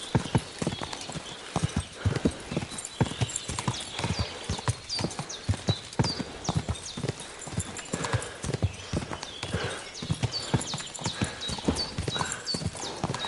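Rapid hoofbeats clip-clop steadily in the video game Kingdom Come: Deliverance II, like a horse at a brisk gallop over hard ground, continuous and fairly close.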